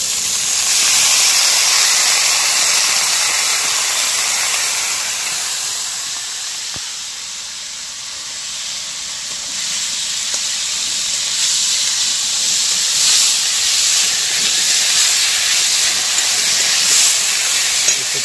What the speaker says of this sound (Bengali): আমার সিদ্ধ করে রাখা মোচাটা দিয়ে দেবো, জল ঝরিয়ে রেখেছি এই ফুটো বাটিতে। আমি মোচাটা দিয়ে দেবো।